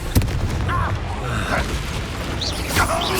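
A Confringo spell explosion in Hogwarts Legacy combat, a sudden booming blast with crackling magical bursts and whooshes amid a busy battle, with a character's voice shouting nearby.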